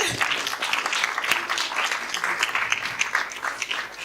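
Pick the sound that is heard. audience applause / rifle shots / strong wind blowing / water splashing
audience applause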